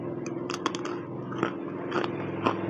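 Someone bites into and chews crispy oven-baked carrot, producing a few crunchy bites and chewing noises close to the microphone over a steady background hum.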